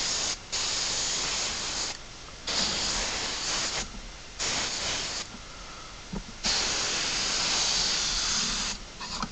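An H&S Infinity airbrush fed from an airline sprays paint in a straight line, giving a close, steady airy hiss in several bursts separated by brief silent gaps.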